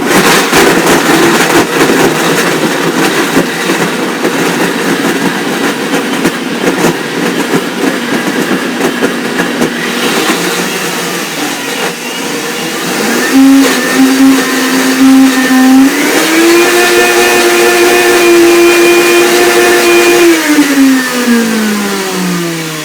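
A Blendtec blender whirs loudly while making an avocado fruit smoothie, a harsh grinding roar that settles, then climbs to a higher whine and drops again as the speed changes.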